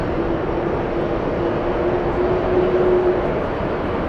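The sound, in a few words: KLM airliner taxiing at JFK airport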